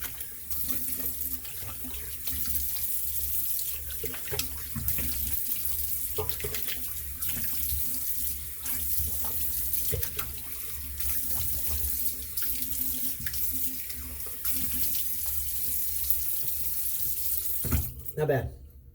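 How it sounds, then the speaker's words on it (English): Cold tap water running into a sink for a post-shave rinse, a steady close splashing stream that continues almost uninterrupted before shutting off near the end. "It's gonna be a cold water rinse."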